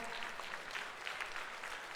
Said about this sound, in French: Des tonnes d'applaudissements pour Antide et pour Christopher aussi